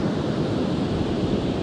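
Broad, steady wash of open-ocean surf at a creek outlet, with wind rushing across the microphone, a continuous low roar with no pauses and no voices.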